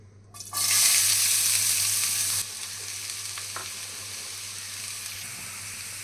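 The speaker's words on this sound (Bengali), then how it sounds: "পেঁয়াজগুলোকে আমি ব্রাউন কালার করে ভেজে নেব।" Chopped onions frying in a pan, a loud bright sizzle that bursts in then drops to a quieter steady crackle, with a few light clinks; no voices.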